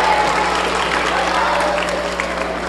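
An audience at a school speaking event claps and cheers in a dense, steady round of applause that fades slightly toward the end, with no talk over it.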